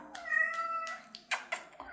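Household cat meowing indoors, a drawn-out close meow followed by a couple of short chirping mews.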